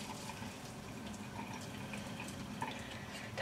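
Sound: water poured out of a pan

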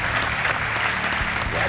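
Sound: studio audience applause welcoming a contestant

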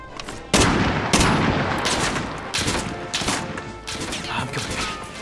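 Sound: Dragunov semi-auto sniper rifle rapid fire in video game

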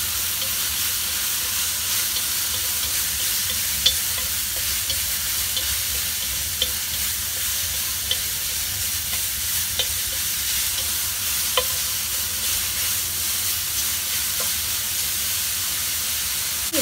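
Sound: stir-frying ginger slices and enoki mushrooms in a wok

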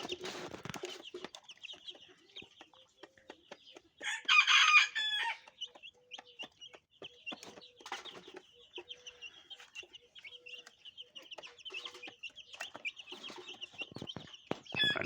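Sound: turkey chicks eating feed

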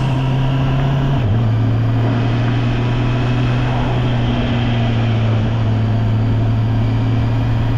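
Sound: Honda E-Clutch motorcycle changing gear without the clutch

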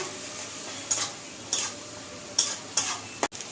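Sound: soaked cumin powder paste being stirred and sizzling in a pan

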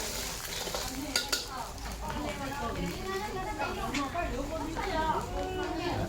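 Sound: stir-frying egg in a pan

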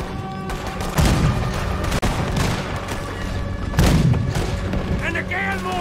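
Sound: cannon fire from a video game

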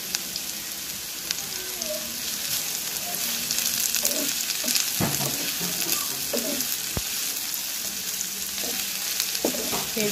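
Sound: onions frying in a pan

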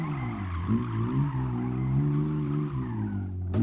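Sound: BMW 535i drifting with tire squeal in video game Assetto Corsa

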